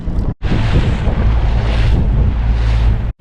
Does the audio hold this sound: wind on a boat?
yes